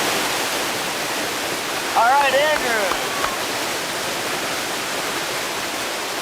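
Steady broadband roar of a waterfall at a Virginia family campsite, constant and loud throughout, with a brief voice speaking over it partway through.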